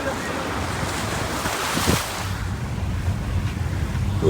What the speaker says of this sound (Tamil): ரோடு கிதறு பக்கத்துலயும் ஆறு ரோட்லயும் ஆறு பாருங்க அதுவும் கலப்பரண்டு ஓடுது